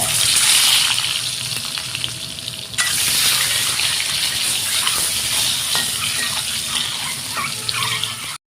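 Eggs frying in oil seasoned with salt and turmeric, a loud, steady crackling sizzle up close, briefly dipping then continuing strongly, no voices.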